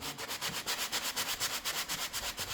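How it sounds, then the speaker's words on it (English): A sanding block rubs back and forth against a wooden window edge in quick, steady strokes, a rhythmic scratchy rasp repeating close by. "you want to take your sanding block and just put it right up on the edge there"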